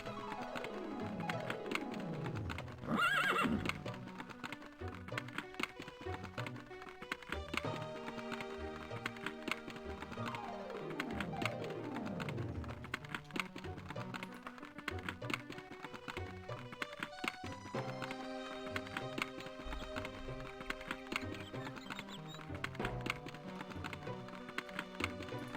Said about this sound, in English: one reason I choose the cart is it's less irritating than the clopping of the horse